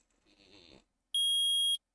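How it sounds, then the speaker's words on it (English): A metal detector in the Phoenix Wright: Ace Attorney video game gives one steady electronic beep lasting about half a second, clear and loud, just after a short burst of quiet game sound. "I permit the use of the metal detector."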